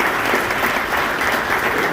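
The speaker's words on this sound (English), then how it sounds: "So please, a round of applause for the Hall of Fame committee." Steady, dense applause from an audience at an auto racing hall of fame induction event, sustained and even throughout with no talking.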